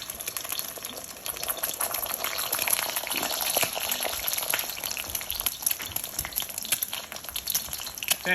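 Two eggs fry in hot, bubbling oil in a pan while cooking a Thai basil stir fry, giving a continuous close crackle and sizzle with dense spattering that stays steady throughout.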